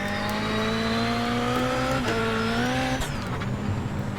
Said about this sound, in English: This is the Ford Fiesta at Phoenix Rallycross layout.